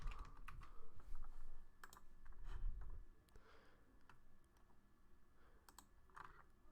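Typing a code on a computer keyboard, soft close key clicks in short irregular runs, faint and without talking.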